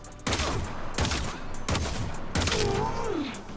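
Kuva Seer pistol firing in Warframe: four loud, heavy bursts spaced roughly evenly, each with a long booming tail, and a rising-falling electronic whine under the final shot.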